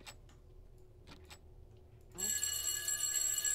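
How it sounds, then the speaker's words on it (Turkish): In the horror ghost-hunting game Ghost Exile, a telephone starts ringing abruptly inside a quiet house, a bright steady electronic ring that cuts in after a few faint ticks and taps and continues loudly to the end. "Telefon."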